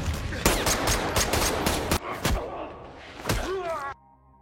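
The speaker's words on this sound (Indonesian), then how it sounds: "Tiba-tiba, keduanya saling melepaskan tembakan." A gunfire exchange in an action film, with rapid overlapping shots cracking in quick bursts, then a few louder isolated blasts and a short ringing tone before it cuts out.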